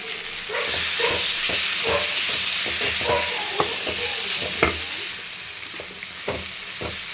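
Egg rice with eggs stirred in a hot pan, loud continuous sizzling and hiss with repeated sharp scrapes and clinks of a spatula against the pan, close up and without talk.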